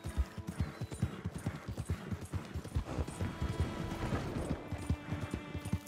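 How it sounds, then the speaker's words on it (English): Horse hooves clip-clop in a steady, continuous rhythm while riding in a video game, close and moderately loud, with no talk over it. "you get most of the hours from just riding your horse from place to place"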